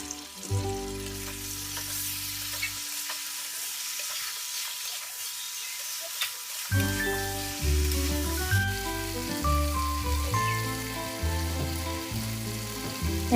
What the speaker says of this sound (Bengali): আমি সবজিটাকে একটু ঢেকে ঢেকে ভালো মতো কষিয়ে নিচ্ছি।